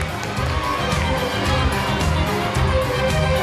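A crowd at a school house closing ceremony claps and cheers for an invited guest, a continuous loud roar of applause and excited voices with children shouting, filling the hall throughout.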